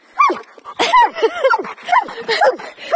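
A nervous, worried dog whimpers, yips and gives short barks in a rapid run of high, wavering cries close by, while someone talks over it as she gets on a bicycle.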